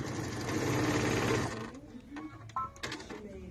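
An old sewing machine stitches quilt block pieces in a fast, steady mechanical whir for about a second and a half, then stops, and a voice follows.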